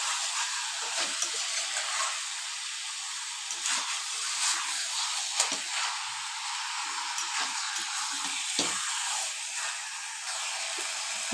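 Chicken sizzling and frying with spices in a pan for a homemade chicken curry, a steady hissing crackle with small pops throughout, close and continuous with no talking.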